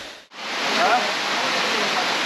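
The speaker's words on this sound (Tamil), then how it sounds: "அங்கே பாருங்கள், தண்ணி அருமையாக வந்துட்டுருக்கு." Manneera waterfall in Konni, Pathanamthitta, Kerala, with river water pouring in a steady, loud, broadband rush heard up close after a brief dip at the start.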